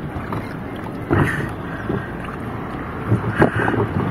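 A battered, leaky small wooden boat out on open water, with steady wind and water wash plus a couple of louder knocks or splashes against the hull.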